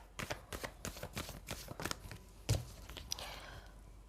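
Tarot cards being shuffled and drawn at close range: a quick run of crisp riffling flicks and slaps, then a single sharper snap and a softer rustle as cards are laid out, with no voices.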